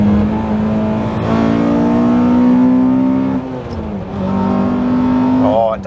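A modified Honda Accord Type S engine revs hard through the gears, its pitch climbing, dropping briefly at a shift, then climbing again, loud and near.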